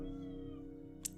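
A cat meows once in a drawn-out, fairly quiet call indoors at a miniature painting desk, with a steady low hum beneath it and no talking.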